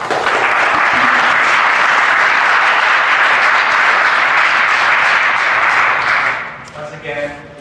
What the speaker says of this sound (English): Once again, hold your applause.